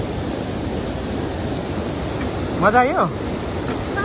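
A river swollen by rain rushes past a bamboo bridge with a broad, steady roar of water that fills the whole stretch, while a voice briefly speaks over it near the end.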